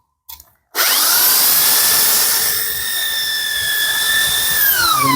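A power drill spinning a motorcycle engine part for sanding starts abruptly after a short click and runs continuously at high speed, its loud whine shifting slightly in pitch.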